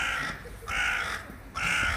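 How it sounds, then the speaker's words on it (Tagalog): A crow caws three times outdoors, each harsh call spaced about half a second apart, moderately loud and clear against a quiet background. "Bigla manisinggit ang uwak."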